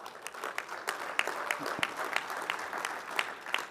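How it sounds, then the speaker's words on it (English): A round of applause at a keynote address, moderately sized audience clapping with distinct hand claps standing out against a softer crowd wash, fairly quiet and without talk. "Yeah, sure, round of applause."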